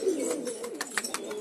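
A recovered, healthy pet pigeon cooing up close, a low throaty warble rolling on and off over a second and a half, with a few faint chirps and rustles around it.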